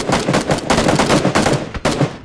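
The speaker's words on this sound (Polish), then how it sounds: "Michu, piękny strzał!" Rapid bursts of gunfire in the video game Arma 3, a quick volley of loud shots followed by a few more, with no talking.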